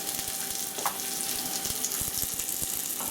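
A peppercorn-crusted steak au poivre sizzles and fries loudly in a hot pan, a close, continuous crackle with quick spitting pops all the way through and no talking.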